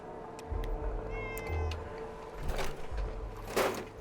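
A cat meows in the video game Fallout 76, a short cry heard over a steady low game rumble with several brief sharp bursts of other game sounds.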